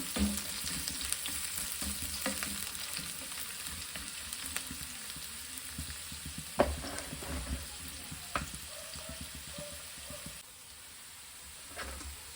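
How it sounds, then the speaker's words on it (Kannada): Onions and curry leaves fry in a pan for a Mangalore-style prawn ghee roast, making a steady moderate sizzle with occasional spatula scrapes and knocks that eases slightly near the end. "ಈರುಳ್ಳಿ ಹಾಕಿ ಚೆನ್ನಾಗಿ ಫ್ರೈ ಮಾಡಿ"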